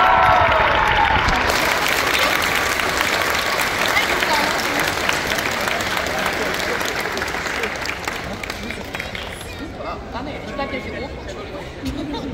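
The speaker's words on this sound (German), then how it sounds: "das ist dein Applaus." Sustained audience applause at a cosplay contest stage event, dense clapping with some crowd chatter, steady and loud before tapering slightly toward the end.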